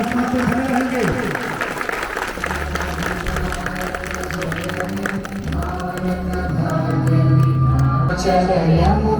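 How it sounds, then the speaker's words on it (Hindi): Loud applause from a crowd at a school Republic Day event, clapping running continuously beneath music and voices, growing slightly louder toward the end. "जोरदार ताली बजाइए"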